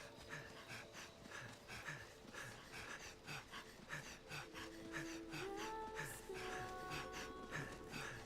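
Dragon's Dogma characters breathing as they run: rhythmic panting and huffing breaths repeating steadily, close and fairly quiet, mixed with footsteps and background game sounds.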